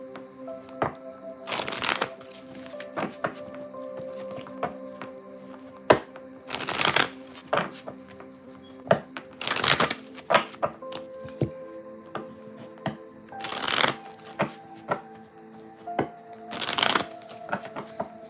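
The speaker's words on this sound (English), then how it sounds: "Let me get a good shuffle." Tarot cards are shuffled in repeated bursts of riffling and slapping, separated by quieter pauses and close to the listener.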